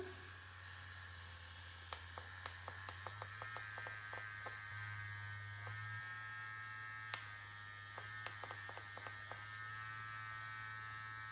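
Low-cost imitation Foreo facial cleansing brush vibrating with a steady low electric buzz that swells and fades slightly, with small clicks and taps over it, heard alone and close.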